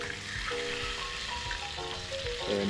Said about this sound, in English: I can tell my fish is ready to flip because the sear is coming up around the edges.